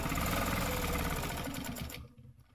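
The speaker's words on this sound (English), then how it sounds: "just stitch out to the edge and then back" A sewing machine stitches a quilt in a rapid, steady whir of needle strokes. It runs close and fairly quiet for about two seconds, then stops abruptly.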